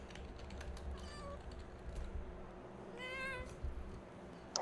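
A cat meows twice, faint and somewhat distant, over a quiet room hum with light clicking.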